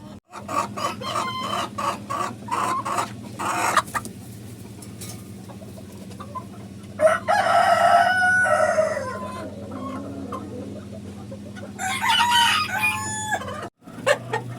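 Colombian Light Brahma chickens cluck in quick bursts while a rooster crows loudly several times, close by and with no talk.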